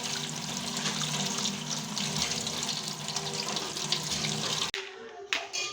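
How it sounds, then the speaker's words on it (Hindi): Tap water runs steadily into a sink while onions, garlic, ginger and green chillies are rinsed by hand, close and continuous, before the flow cuts off near the end with a few small knocks. "ये इनको प्याज, लहसुन, अदरक और ये सब्ज़ मिर्चों को धो लेती हूँ।"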